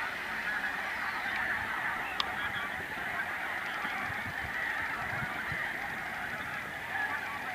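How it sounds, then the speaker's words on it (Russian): A dense colony of nesting seagulls calls constantly over the water, a loud, steady wash of overlapping cries and squawks with no pauses. "Там чайки гнездятся."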